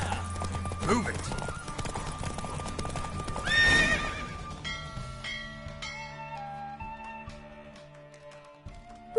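A horse gallops in The Witcher video game with steady clip-clop hoofbeats and a loud neigh partway through, set against game music while a voice speaks over it.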